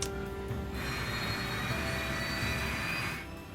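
An airliner's number three jet engine starts up, a steady broadband roar with a thin whine on top, holding for about three seconds before easing slightly.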